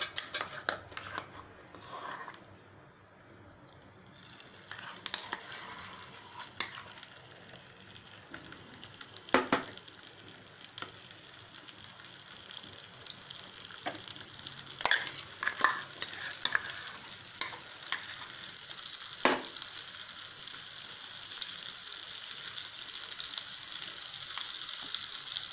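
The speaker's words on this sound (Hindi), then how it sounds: "अब दाल हमारी भुन रही है" Lentils fry in hot oil while a spoon stirs them in the pan, giving a continuous sizzle with repeated scraping strokes that grow busier and louder toward the end.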